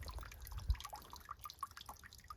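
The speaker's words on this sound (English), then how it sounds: "that water is trickling away the whole time" Water trickles and drips in a garden pond, with soft, irregular drops and gurgles close by and fairly quiet, plus a low thump early on.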